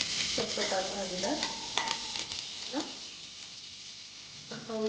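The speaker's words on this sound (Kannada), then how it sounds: "ಈರುಳ್ಳಿ ಸ್ವಲ್ಪ ಬ್ರೌನ್ ಕಲರ್ ಆಗೋ ತನಕ ಬಾಡಿಸ್ಕೊಳ್ಬೇಕು." Onions sautéing to golden brown in a pan for tomato bath, a close sizzle under scraping stir strokes and a few clinks of the spoon, busier at first and quieter toward the end, with no speech.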